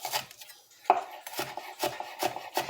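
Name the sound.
knife chopping an onion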